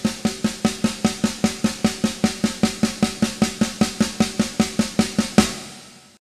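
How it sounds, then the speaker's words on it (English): Even single strokes on a drum in a steady, evenly spaced stream of crisp hits at constant volume, ending with a final louder stroke that rings out and decays. "it's real important to try and get your hands even."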